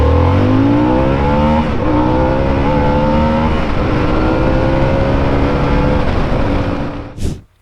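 Harley-Davidson motorcycle launching hard from a standstill in a 0 to 60 run, a loud close engine roar climbing steadily through the gears for several seconds before cutting off abruptly.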